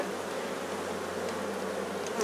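Honeybees buzzing steadily during a hive cut-out from a wall cavity packed with honeycomb, a dense, continuous drone close by with a few individual bees passing nearer toward the end.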